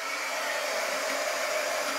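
A dryer blows a steady, close-up whoosh of air for a quick dry over freshly glued farmhouse decor, with no break in the sound.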